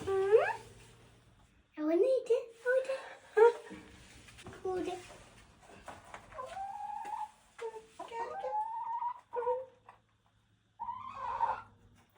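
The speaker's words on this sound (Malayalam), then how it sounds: "ഇസ ബ്രൗൺ എന്ന് പറയുന്ന വെറൈറ്റിയിൽപ്പെട്ട കോഴിയാണ് കേട്ടോ ഇത്" An Isa Brown hen clucks and murmurs in short, uneven bursts close by, with quiet pauses between calls.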